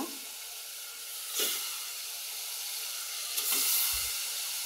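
Rui fish pieces going into hot, cooked-down spiced masala, giving a continuous broadband sizzle and hiss with a couple of brief louder surges, close and without talk.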